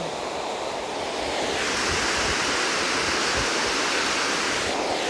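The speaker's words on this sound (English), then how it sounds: "So it's actually quite beautiful to see the water pouring out of the lava, like coming out of nowhere." Water pours out of lava rock at the Hraunfossar waterfall, a loud, steady, broadband rush that swells slightly after the first second and carries on without a break, with no voices.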